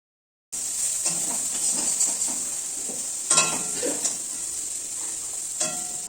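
Pumpkin slices frying in a pan on a home stove while being stirred, giving a steady close hiss of hot oil with scattered scrapes and clinks of a spatula against the pan.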